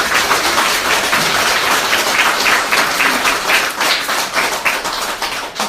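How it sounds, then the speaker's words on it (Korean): A church congregation at a Catholic Marian Cenacle gathering applauds, a dense steady burst of many hands clapping that fills the room for several seconds, loud and close, with no speech. "진정으로 박수 치려면 확실하게 치든지"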